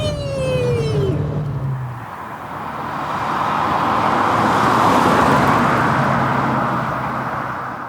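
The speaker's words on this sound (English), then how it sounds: "an old rattling car that makes noise" An old, rattling Austin Maestro barn-find car drives along, its engine and road noise loud and close, swelling as it gathers speed, with a faint descending whine early on.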